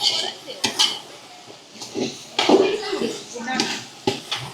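A pot of mutton biryani is stirred briskly, with scraping and clanking of a ladle against the metal pot in irregular bursts, mixed with a person talking throughout.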